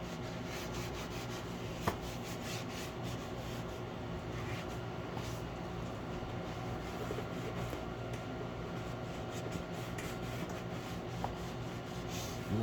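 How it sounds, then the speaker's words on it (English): A Scrub Ninja brush scrubs a foamy, cleaner-soaked car seat with a soft, steady rubbing rasp, close but quiet, continuing unbroken with a couple of faint clicks. "You can see that they do a good job at scrubbing the surface gently without damaging it."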